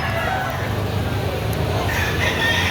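Roosters crow and hens cluck amid the bustle of a chicken market selling quality fowl, the calls rising over background chatter and people talking nearby.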